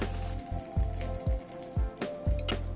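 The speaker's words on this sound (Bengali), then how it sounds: "আর 2টো পিস দিয়ে দিচ্ছি। এই মাছ দুটোকেও ভেজে তুলে নিলাম।" Fish pieces fry in hot oil, a steady close sizzle broken by several repeated bursts and crackles as pieces are turned or added, no speech.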